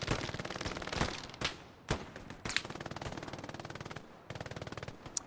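Sustained machine-gun fire from the WWII shooter game Hell Let Loose, during an 18-versus-18 competitive match: loud, rapid bursts of close-range rattling shots broken by brief pauses and a few sharper single cracks, with no talking.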